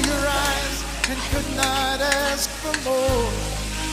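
Pork frying in a pan for adobong sitaw, a steady, close hiss of sizzling fat broken by a few soft stirring scrapes.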